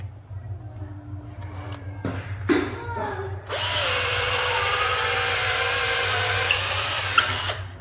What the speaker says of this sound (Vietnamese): Sẽ khoan cho bạn xem ha.